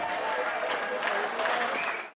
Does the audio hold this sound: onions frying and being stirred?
no